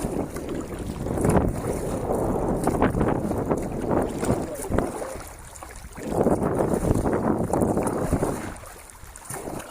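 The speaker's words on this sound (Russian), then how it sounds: "ветер сегодня сифонит снова целый день" Strong, gusty wind beside a water channel buffets the microphone in loud, surging waves of rumble and roar, easing briefly between gusts, with no voices.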